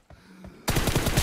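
Rapid M416 assault rifle fire in a PUBG-style team deathmatch, a dense burst of close, loud shots erupting after a couple of faint quieter pops, with no talk over it.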